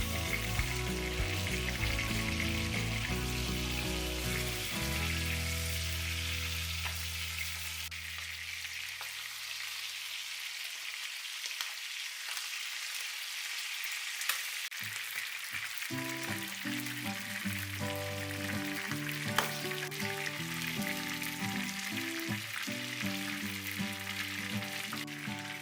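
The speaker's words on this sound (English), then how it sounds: "Turn the chicken quarters over to fry the other side." Steady, loud sizzling of chicken quarters frying in a hot pan, with occasional stirring and crackles throughout, no voices.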